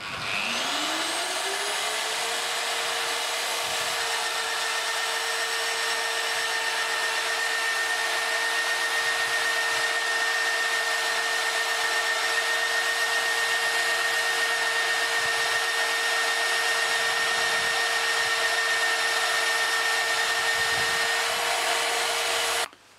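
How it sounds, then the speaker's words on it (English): An Evolution EVO Mag 42 magnetic drill spins up and runs at a steady, loud whine for about twenty seconds drilling a steel beam, then shuts off, with faint clunks underneath. "we're going to drill a steel beam for a home extension"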